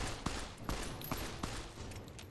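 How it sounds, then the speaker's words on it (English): Gunfire in the video game Fallout: New Vegas, four sharp, evenly spaced shots roughly half a second apart over a low background hum, heard without talk. "What are you shooting at?"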